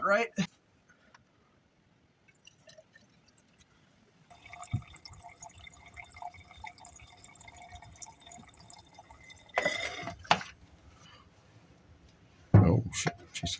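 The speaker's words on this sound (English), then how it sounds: "let's put a little fuel down this carb and see if we make any sounds" Fuel is poured into a gummed-up carburetor on a 1956 Ford F100, a faint liquid trickle and drip running for several seconds, with people talking briefly before and after.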